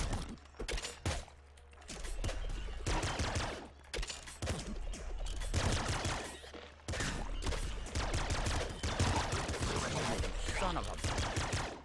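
Rapid gunfire from the top-down shooter video game Nuclear Throne, with dense overlapping shots and impacts that keep up almost without pause at a loud level.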